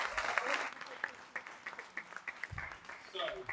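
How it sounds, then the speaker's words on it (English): An audience at a summer music festival applauds students after a performance, a steady patter of clapping that sits fairly quiet and distant in the room. "huge round of applause to the students."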